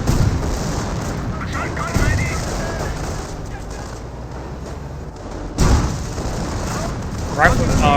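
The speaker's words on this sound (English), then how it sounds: "They've already thrown a bundle grenade there on top." Bundle grenade blast amid combat in Company of Heroes, a WWII strategy game: continuous gunfire and rumbling explosions fill the scene, with sharper booms near two and five and a half seconds, under faint talk.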